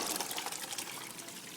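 Rinse water from soaked beans drained in a kitchen, a steady close rushing pour of water running throughout without pause, with no voices.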